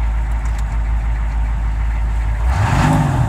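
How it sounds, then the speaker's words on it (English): A Chevrolet K5 idles on a cold, snowy day with a steady low rumble, then revs up briefly near the end, the engine pitch rising and falling, heard close. "rev it up to get the alternator to charge it."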